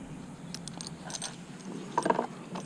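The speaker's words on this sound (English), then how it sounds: "Then I'm going to run it through my pulley." Rope being drawn through a pulley on a no-drill front anchor rig for a Jackson kayak, giving a few quiet ratcheting clicks and rattles, with a brief cluster of metallic clicks near the end.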